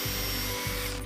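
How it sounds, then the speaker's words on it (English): Power drill boring pilot holes in macrocarpa timber for galvanised tech screws, two close, loud whirring bursts with a brief pause between, the motor spinning up and running steadily each time. "I'm pre-drilling the holes and using galvanised tech screws"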